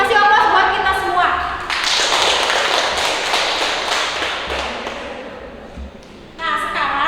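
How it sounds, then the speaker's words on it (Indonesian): A classroom of students breaks into a burst of applause, a dense wash of clapping that swells and then tapers off over several seconds, with a teacher speaking just before and after. "Kasih aplaus buat kita semua."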